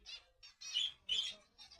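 A small bird chirps in several quick bursts, bright and close, with brief pauses between calls, in a botanical garden.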